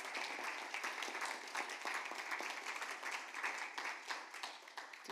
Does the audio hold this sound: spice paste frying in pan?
no